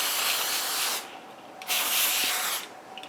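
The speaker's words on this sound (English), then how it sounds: "We'll just spray down our area." Non-stick cooking spray hisses onto aluminum foil in two steady bursts of about a second each, with a short pause between them, close and fairly loud.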